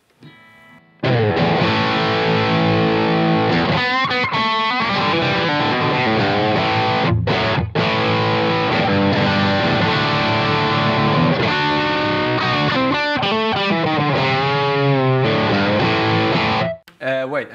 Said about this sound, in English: It's a really cool humbucker that sounds like this.